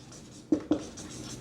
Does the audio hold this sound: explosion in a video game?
no